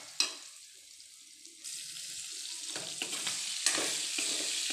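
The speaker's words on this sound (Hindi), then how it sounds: "और ये डीप फ्राई तब तक करेंगे जब तक ये लाइट ब्राउन ना हो जाए सोयाबीन।" Soybean chunks deep-frying in oil until light brown make a close, bubbling sizzle that starts quiet, then grows fuller, with sharp bursts and stirring scrapes.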